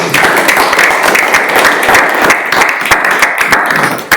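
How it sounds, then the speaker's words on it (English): A council meeting room breaks into a round of applause, a loud, dense burst of many people clapping that keeps going before it stops abruptly at the end. "I think a round of applause."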